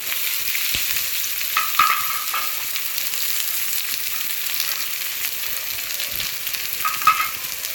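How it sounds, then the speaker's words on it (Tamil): Chopped onions frying in hot oil for a village-style dried fish curry, a bright, steady close sizzle with occasional clinks of a stirring spoon, no voices. "எண்ணெய் நல்லா ஹீட் ஆனதுக்கப்புறம் வெட்டி வச்ச வெங்காயத்தை எடுத்து போட்டுக்கலாம்."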